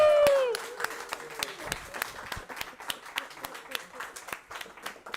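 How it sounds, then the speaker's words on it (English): Audience at a Netrunner championship finals in Berlin applauds, a steady patter of many hands clapping under a brief voice at the start, the clapping holding through the whole stretch. "you can applaud me for organizing this event if you want to"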